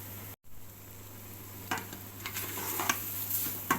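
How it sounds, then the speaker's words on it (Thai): Ginger being stir-fried in a pot over high heat for a ginger drink, a steady close sizzle with scraping stir strokes building through the second half, no talk. "เราจะผัดเป็นอย่างนี้ก่อนนะครับ"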